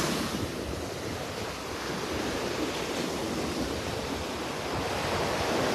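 Rough surf breaking on a North Naples, Florida beach on a rainy early morning, a dense steady roar of waves with wind noise buffeting the microphone, no voices.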